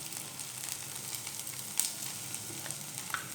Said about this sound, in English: Now I'll be tempering it with chili powder